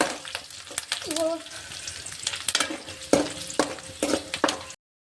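Coriander and curry leaves crackle and sizzle in hot oil beside onions, with sharp spattering pops and spoon stirring up close, the sound cutting off abruptly at the end.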